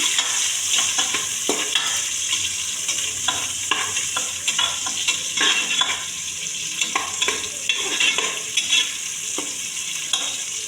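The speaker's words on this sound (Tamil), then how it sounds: "அடுத்து பெரிய வெங்காயம் 2 நீளமாக கட் பண்ணி சேர்த்துக்கோங்க. அதையும் நல்லா வதக்கி விட்டுக்கலாம்." Two large onions, sliced lengthwise, sauté in a hot pan with a steady, loud sizzle, broken by repeated scraping stirs of a spoon throughout.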